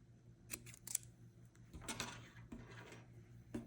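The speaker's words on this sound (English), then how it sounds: "Okay, and then just cut the excess." Scissors snip excess yarn from a machine-knitted pumpkin, a few quiet close cuts and light handling rustles spread over a few seconds, no talking.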